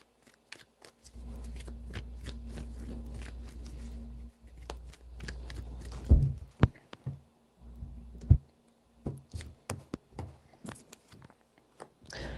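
Tarot cards being shuffled several times, a soft riffling rustle with a couple of sharp snaps as the deck bridges, close and fairly quiet.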